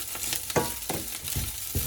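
A spatula stirs Sri Lankan-style beef samosa filling in a hot pan. The scraping strokes come in a quick, regular rhythm of five or six over a low sizzle, close and clear, with no voices.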